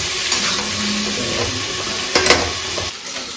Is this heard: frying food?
yes